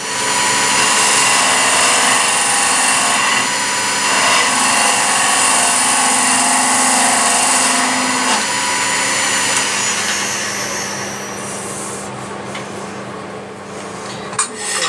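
A wood lathe faces a yew nutcracker blank, a steady, loud, broadband whirring and hissing cut that continues nearly unchanged for about fifteen seconds before easing slightly near the end.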